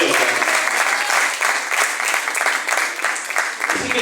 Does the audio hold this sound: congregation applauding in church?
yes